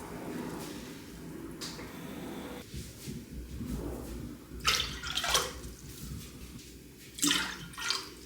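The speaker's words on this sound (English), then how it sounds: "And then I'm gonna add 2 more cups of water." Water pours into a pickling brine in a kitchen, with gentle, intermittent splashing and trickling that builds into a few louder bursts near the end, fairly close and moderately quiet.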